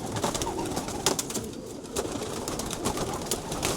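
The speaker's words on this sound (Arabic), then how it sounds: "هذا الطير اسمه جوبينا أو كوبينا، ما أعرف شو تسموه أنتم ببلادكم." A small Polish pigeon breed cooing in soft repeated low calls, close by, over steady background noise and occasional clicks.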